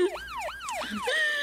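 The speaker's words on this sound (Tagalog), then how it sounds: "At dandag iti pulis, Roy." A police siren sound effect from an Ilocano radio drama wails in rising and falling sweeps, about three cycles, then shifts to a steadier high tone, loud and close with faint voices underneath.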